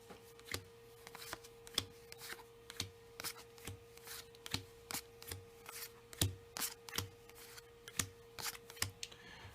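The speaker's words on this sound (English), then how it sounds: "I'm going to hand out 5 cards to each of the players." Playing cards for a World Championship Darts card game are dealt out five to each player: a steady run of soft, crisp flicks and slaps, close and quiet, with a constant faint hum behind them.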